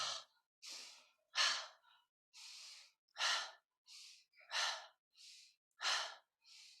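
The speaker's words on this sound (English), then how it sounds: "So on the ha sound, you should be moving backwards, pushing the breath out." A series of audible "ha" exhalations during a yoga breathing exercise, about a dozen breathy pushes of air at a steady rhythm, close and soft with short silences between.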